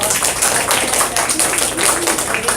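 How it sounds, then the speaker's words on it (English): Applause from an audience at a high school event, a loud continuous wash of clapping sustained for a few seconds without breaks. "Go ahead and give a round of applause for"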